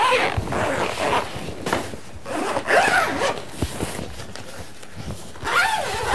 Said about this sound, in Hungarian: könnyen fel lehet cipzározni, végig haladva mind a 4 oldalon